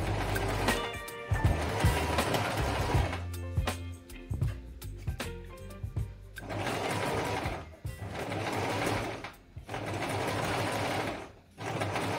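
A sewing machine hems the sleeves of a stretch knit dress in several runs of rapid, close mechanical stitching, separated by short pauses and handling clicks.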